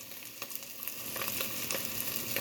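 Minced garlic fries in a hot pan, giving a steady, close sizzle with small crackling pops and faint stirring scrapes, and no voices.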